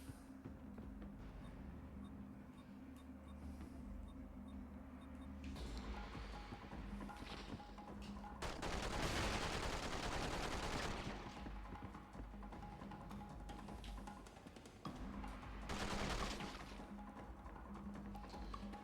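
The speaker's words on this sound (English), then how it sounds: "Submachine gun accuracy low, range short, damage low, high rate of fire makes the weapon best for short range Battles against multiple opponents" Submachine gun fire in The Matrix: Path of Neo, heard as two sustained rapid bursts of dense automatic fire over continuous game music and ambient noise, with quieter mechanical clatter between the volleys.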